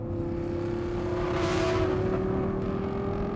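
The V10 engine of an Audi R8 with a 6-speed manual gearbox hums smoothly and steadily from inside the car, its tone rising gently as it swells midway, with no voices.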